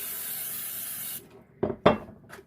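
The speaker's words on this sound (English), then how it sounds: "I'm going to use my cooking spray, spray down my" A steady hiss of cooking spray onto a bread pan lasts about a second, followed by a few soft knocks and clatters of the pan, close by.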